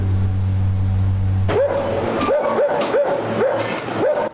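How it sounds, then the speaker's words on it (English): Stray dogs bark on a street in Freetown, Sierra Leone, a steady run of about seven sharp, evenly spaced barks, close and loud over street noise after a low droning hum cuts off. "one can easily observe stray dogs roaming the streets"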